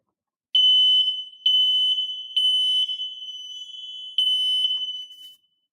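A smoke alarm in a house sounds during a test, giving piercing high electronic beeps in several long bursts with short gaps, loud and close, then cutting off.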